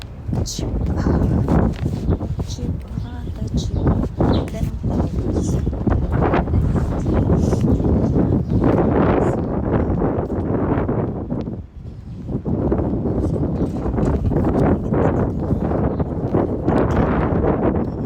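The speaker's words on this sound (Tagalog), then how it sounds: "It's so windy." Strong wind buffets the microphone outdoors on a grocery run, a loud rumbling roar that gusts unevenly throughout while a person talks over it.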